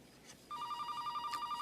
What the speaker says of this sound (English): Keith, it's Donna on the phone.